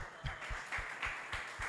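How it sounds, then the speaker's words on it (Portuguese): Congregation in a church giving a short round of applause, a light scattering of claps with a few distinct strong hits standing out against a soft background, fairly faint and brief. "vamos aplaudir aí vocês"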